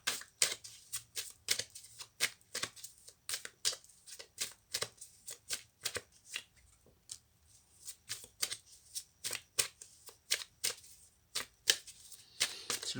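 Cards shuffled by hand for a love tarot reading: a rapid series of crisp slaps and riffles in an uneven rhythm, close and quiet, with no talking.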